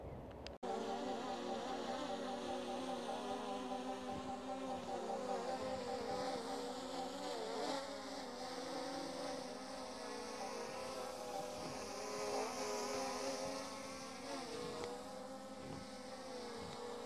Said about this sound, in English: So you're now going to see the drone, just a short flight.